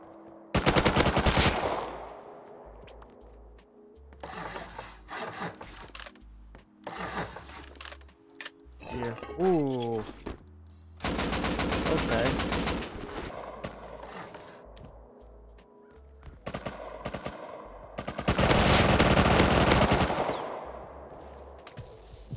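An AK rifle in the Rusticated Bedwars video game fires in loud, rapid automatic bursts. Several separate volleys are broken by quieter pauses, and other clicking game effects are mixed in.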